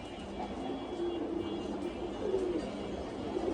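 Racing pigeons coo softly in a loft, a few low burbling calls over a steady background hum, fairly faint and close.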